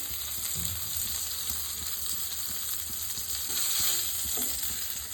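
Chicken keema cabbage rolls fry in a pan with a steady, close hiss of sizzling oil, continuous and even with faint scraping now and then, no voices.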